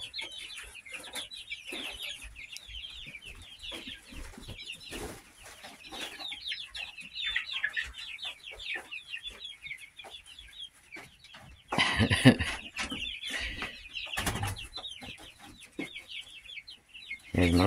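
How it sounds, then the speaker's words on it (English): Pullets and a cockerel cluck steadily in a coop, with busy overlapping calls throughout and a louder burst of clucking near the end. "Here's my little cockerel."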